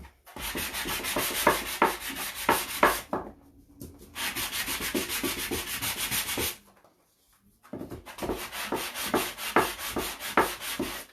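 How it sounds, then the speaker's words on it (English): Hand sanding a painted Dollar Tree picture frame: three bursts of steady back-and-forth scratchy rubbing strokes, close and fairly loud, separated by short pauses. "This doesn't want to sand very good."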